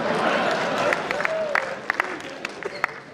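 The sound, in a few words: audience applause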